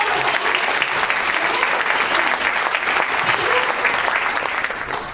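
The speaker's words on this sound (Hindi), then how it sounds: "तालियां इसलिए बजनी चाहिए" Steady, dense applause fills the room as an audience claps together at a success-journey talk, loud and sustained throughout.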